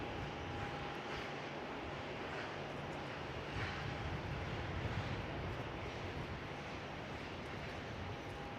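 A Velocity Boeing 737 Max 8 from Sydney, near Melbourne Airport, gives a faint, steady, distant engine rumble with a thin constant tone that stays even throughout.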